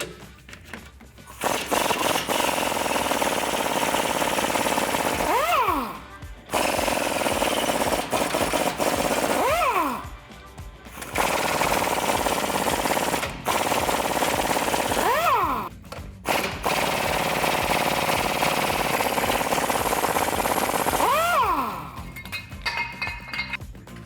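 Rusty U-bolt nuts on a 1999-2006 Chevrolet Silverado or GMC Sierra being spun off with a 21mm deep socket on an impact wrench: four long, loud rattling hammering bursts, each winding down with a rising whine, separated by short pauses.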